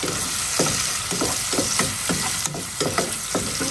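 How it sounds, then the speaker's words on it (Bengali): Noodles frying loudly in a pan, with a constant close sizzle broken by repeated scraping strokes of a utensil stirring at a steady rhythm. "এই যে নুডলস রান্না করে ফেলছি।"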